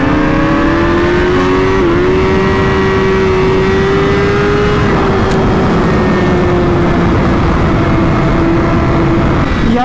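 A 2017 Honda CBR1000RR SP motorcycle fitted with an exhaust pulls hard along an open road. Its engine drones loudly and steadily with a slightly rising tone for the whole stretch.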